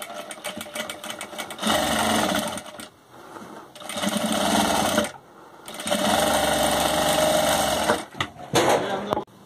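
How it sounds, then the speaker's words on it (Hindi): Sewing machine running in several bursts of a few seconds each, with a steady rapid whirring while stitching a homemade cloth face mask, close and loud, with short pauses in between. "इसमें भी एक लव सिलाई चला लीजिए"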